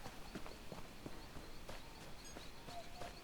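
Horse hooves clip-clop in a steady, even rhythm in a video game, faint and close, with little else around them.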